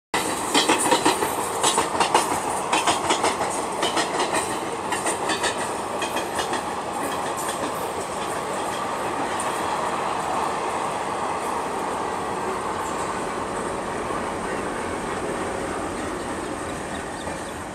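The Chennai to Kolkata AC Express rolls steadily along the rails, a loud continuous rumble with rhythmic clickety-clack of wheels over joints, heard from inside the moving train without voices.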